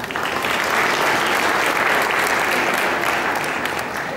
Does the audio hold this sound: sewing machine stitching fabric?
no